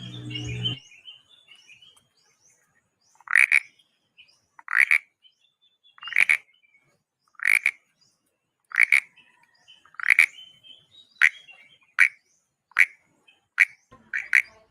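Frog-like croaks imitated by scraping a cutter against an ordinary plastic bottle cap, a dozen sharp rasping calls repeating at a steady, quickening rhythm, close and clear with no talking.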